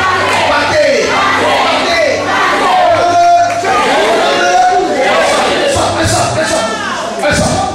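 A church congregation cheering and acclaiming Jesus during a deliverance service, a loud, dense crowd roar of shouts and cries that carries on throughout with overlapping voices.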